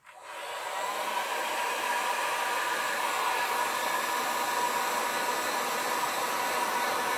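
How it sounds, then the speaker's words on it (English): Heat gun blowing hot air over a WoodUbend moulding during chalk-paint wall decoration, a steady loud continuous rushing hiss that starts abruptly and holds evenly throughout, with no voices. "Now we take the heat gun to show you again how it plopped up."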